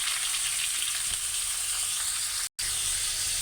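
Peanuts and ridge gourd peel fry together in oil with a loud, continuous close-up sizzle that cuts out for a split second partway through, with no voices.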